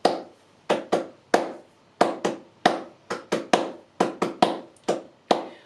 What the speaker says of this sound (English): The palmas sordas sound like this.